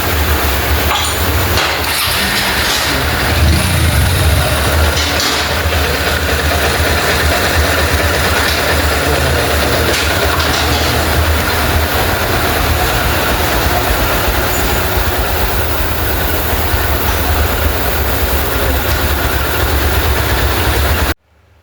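A Honda X-Blade motorcycle engine, freshly rebuilt with new piston rings, idles steadily and loudly for about twenty seconds with a continuous mechanical clatter, then cuts off abruptly at the end.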